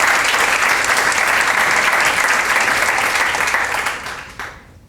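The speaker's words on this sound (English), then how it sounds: "So I am going to make you applaud one more time for Julie and her team for all the hard work" An audience at a product-management conference applauds steadily, a dense wash of clapping that holds loud and even for several seconds, then thins and fades out near the end.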